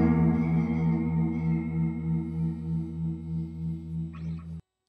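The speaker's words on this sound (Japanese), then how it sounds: "リバーブとか、ディレイとか、空間系をなんか使っちゃったりすると、" Sustained electric guitar chord, drenched in reverb and delay for a spacious, shimmering sound, rings steadily with a gentle pulsing swell before cutting off abruptly.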